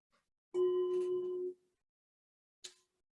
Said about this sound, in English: I'm gonna ring the bell for that